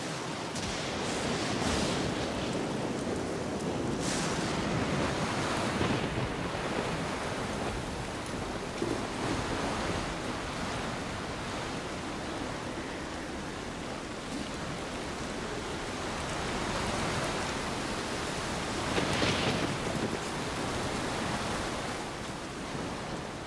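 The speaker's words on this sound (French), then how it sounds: "Un véritable déluge s'abat sur l'archipel." Heavy rain and wind from a storm over an archipelago form a dense, steady roar of broadband noise with occasional gusting swells, loud and continuous without any voices.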